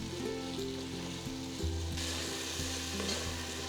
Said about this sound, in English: Saute the tomatoes till they become nice and mushy.